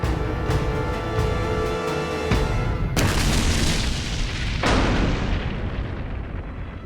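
A T-34 tank's turret bursting apart in an explosion during combat in Korea, heard as loud booming blasts, with a sharp burst near the three-second mark and another near four and a half seconds over a constant rumbling roar.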